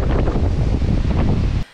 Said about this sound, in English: this was a very windy day with sustained winds at 30 miles per hour